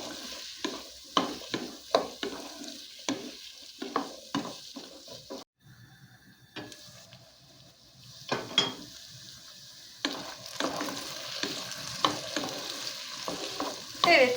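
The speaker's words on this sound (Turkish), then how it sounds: "Sadece patateslerimizi şöyle bir dakika kavurmamız yeterli olacak." Potatoes sizzle in a hot pan while a utensil scrapes and stirs them in quick bursts, pausing briefly before the frying resumes, while making a sour soup.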